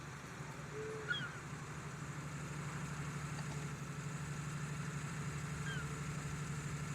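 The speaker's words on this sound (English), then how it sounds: "Let's run this tractor trailer over this hill here." A tractor trailer's engine in a racing video game idles at a steady, low drone, with the hum continuing evenly under faint background game sounds.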